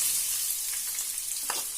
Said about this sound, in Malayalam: ഇനി നമുക്കിതിനകത്തേക്ക് അരിഞ്ഞു വെച്ചിട്ടുള്ള സവാള ഇട്ട് കൊടുക്കാം.